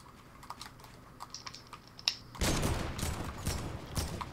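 Gunshots in Fortnite Battle Royale: after light keyboard clicks, a sustained loud burst of rapid gunfire erupts and keeps rattling for about two seconds.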